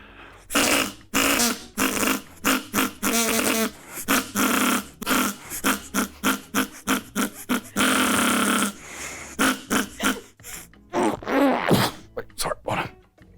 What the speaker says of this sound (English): I present to you the fart whistle.